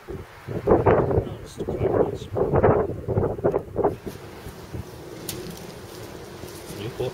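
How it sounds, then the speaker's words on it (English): Gusty wind buffeting outdoors in Newport, loud rumbling blasts against the microphone for the first few seconds, then easing to a softer steady rush. "Newport seems to be a bit blowy,"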